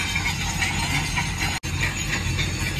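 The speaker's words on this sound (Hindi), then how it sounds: "यहाँ पे बगल में एक मशीन चल रहा है ना पाइलिंग मशीन चल रहा है" A piling machine drones nearby with a loud, continuous rumble and rattling clatter that barely lets up, and no one speaks.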